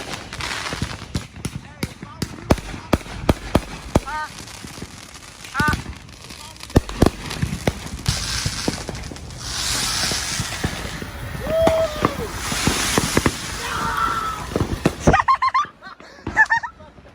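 A $1,000 backyard fireworks show: rapid crackling bursts and sharp bangs in quick succession, loud and close, with people talking and exclaiming throughout and a louder whistling burst near the end.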